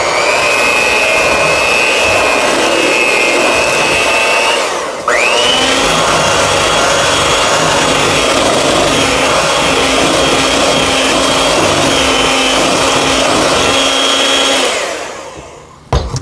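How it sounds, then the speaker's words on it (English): Electric hand mixer whirring steadily through zucchini bread batter, a continuous close motor drone with a brief dip and restart near five seconds, then cutting off at the end; no talking. "beat this up a little bit with the mixer"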